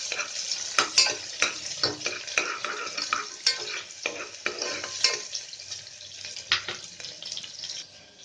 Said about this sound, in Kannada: ಈಗ ಎತ್ತಿಟ್ಟಿಟ್ಕೊಂಡಿರೋ ಈರುಳ್ಳಿನ ಹಾಕ್ತಾ ಇದ್ದೀನಿ. ಒಂದ್ಸಲ ಚೆನ್ನಾಗಿ ಫ್ರೈ ಮಾಡ್ಕೊಳ್ಳಿ.